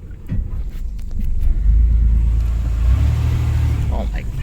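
Chevy S10 Blazer engine in four-wheel drive pulling out of a rough spot, a loud low rumble that swells and holds steady as it climbs free, with people talking over it.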